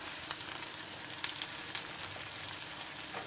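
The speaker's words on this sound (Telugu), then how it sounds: "నూనె వేసి వేడయ్యాక ఉల్లిగడ్డలు వేయాలి. అందులోనే పచ్చిమిర్చి కరివేపాకు కూడా వేయాలి." Onions, green chillies and curry leaves sizzle steadily in hot oil, a dense, even frying hiss with small crackling pops throughout, close and alone.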